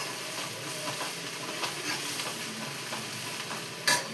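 Masala for minced mutton fries in oil with a steady, moderate sizzle while a spoon stirs it in soft scraping strokes, and one louder scrape comes near the end.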